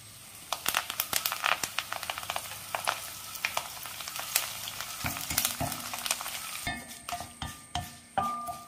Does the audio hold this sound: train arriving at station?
no